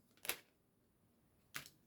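Tarot cards being shuffled in two short, crisp riffles separated by a pause, close and quiet with no talking.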